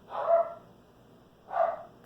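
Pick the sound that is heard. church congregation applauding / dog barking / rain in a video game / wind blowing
dog barking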